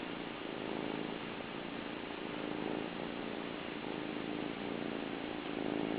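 A cat purring close up, a soft continuous rumbling purr that holds steady throughout with no other sounds.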